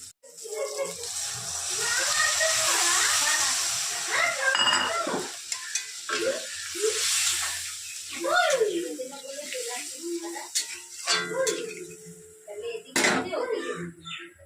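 Fish curry gravy bubbles and sizzles in a pan, steady and close, while a voice talks over it and a utensil gives a few sharp clinks.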